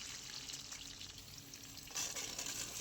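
Potatoes and gathi kochu (taro) fry in hot oil in a wok, giving a steady close sizzle with some stirring scrapes and a brighter burst of spitting near the end, with no voices.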